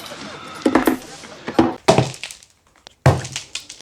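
Coloured ice cubes are handled and knocked loose, giving several sharp clattering thunks and cracks in irregular bursts with short quiet gaps, close and fairly loud.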